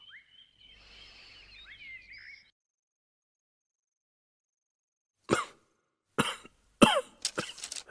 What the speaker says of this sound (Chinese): 大王是不是受了风寒？怎么突然咳嗽起来了？